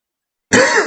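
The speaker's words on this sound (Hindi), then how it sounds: "मेरा आज सर्दी की वजह से थोड़ा खांसी हो रहा है" A man with a cold clears his throat and coughs once, a single close, loud rasping burst that breaks abruptly out of silence.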